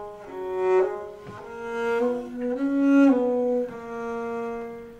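Solo violin plays a gentle Bach line in rocking two-note groupings, the notes stepping up and down in a clear, sustained tone that swells softly across the phrase.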